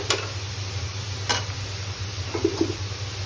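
Tengra fish going into a pan of simmering eggplant, a low steady bubbling hiss broken by a few sharp scraping clicks and light splashes.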